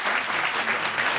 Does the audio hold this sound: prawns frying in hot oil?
no